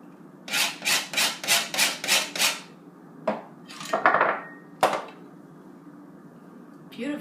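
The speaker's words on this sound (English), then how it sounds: "take 2 lemons and zest them" Two lemons zested for lemon bars, the rind rasped against a grater in a quick run of about seven even strokes, followed by a few scattered scrapes and knocks; close and fairly loud in a quiet kitchen.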